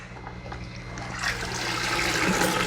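Water sloshing and trickling in a bucket filled with aquarium water siphoned from a tank while a Fluval 307 canister filter is handled nearby, a steady close wash that swells slightly louder over a few seconds.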